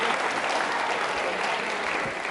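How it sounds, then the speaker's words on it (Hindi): School audience at a Navratri quiz show claps loudly for contestants, a dense, sustained burst of many hands throughout, with no speech on top. "तालियां जोरों से बजाइए इनके लिए"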